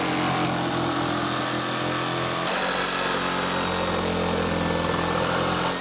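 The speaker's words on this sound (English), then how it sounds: "big enough to get our jigsaw blade in." A jigsaw cuts a hole in the side panel of a Crafter camper van, a loud, continuous, close motor buzz with a slight shift in pitch partway through.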